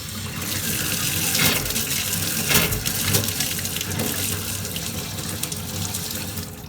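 Water running steadily from a just-repacked sink faucet into the basin, a loud continuous splashing hiss with small surges, with no talk.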